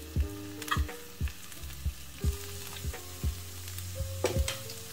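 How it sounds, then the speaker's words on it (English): Ramyeon noodles lightly frying and toasting in a pan to crisp them, giving a steady close sizzle with regular clicks and taps of a utensil about once a second; no voices. "I don't want to over fry them, so it's just that I want to toast them a little so that they are crispy."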